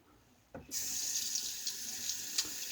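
A bathroom tap turns on after a shave and water runs steadily into the sink, a close, continuous rushing splash with a few small clatters over it.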